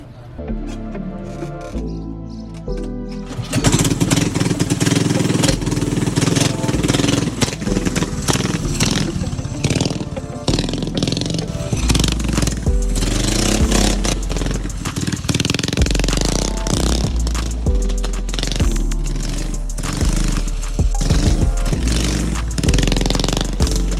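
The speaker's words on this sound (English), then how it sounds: "I'm gonna rip some donuts for you guys and for TikTok and Instagram" A homemade go-kart engine, built for about $400, revs hard while spinning donuts in front of a garage, a loud, rough, buzzing roar that rises and dips after a quieter start.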